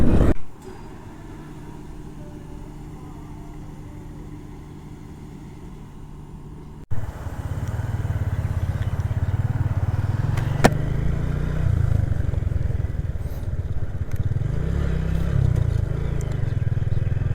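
A motorcycle rides along a road in Rajshahi, Bangladesh, after refuelling at a fuel pump. Its engine drones steadily and loudly, close by, with a rough low rumble and wind noise, after a quieter idle stretch.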